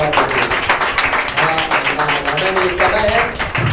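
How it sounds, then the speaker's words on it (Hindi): A church congregation at a Thursday healing service claps together, a dense burst of loud applause that carries on steadily for a few seconds with voices mixed in. "जोरदार ताली से धन्यवाद"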